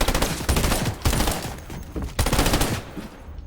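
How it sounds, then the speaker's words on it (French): Submachine gun in a video game firing rapid, loud bursts of automatic gunfire across three and a half seconds, with brief gaps between the volleys. "C'est une mitraillette."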